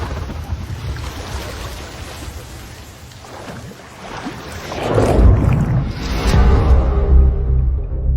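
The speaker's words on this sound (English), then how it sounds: "Patrol boat 2 o'clock." A patrol boat engine in a video game hums low under rushing water and swishing spray, growing louder partway through as the craft passes close.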